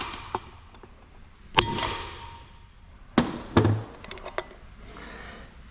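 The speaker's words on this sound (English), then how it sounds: "but what you do is you just simply hammer away" Sharp metallic bangs and thuds ring out in irregular bursts as a hammer knocks out a part during a Nissan 350Z/370Z differential rebuild, a few strikes spaced apart with quieter pauses between.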